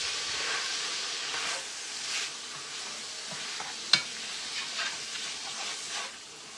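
Meat for beef bourguignon browns in hot fat, giving a steady, loud sizzle and hiss throughout, with faint stirring scrapes and one sharp click partway through.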